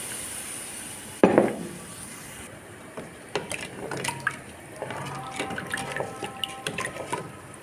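A spoon stirs fried bread flour mixed with water in a pot, giving wet, irregular clinks and sloshing scrapes after a sharp splash near the start, close and fairly quiet.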